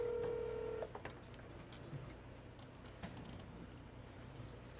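A phone dialing to connect a call on a Korean TV show, opening with a steady electronic tone that cuts off, then a few faint beeps over a low background hum.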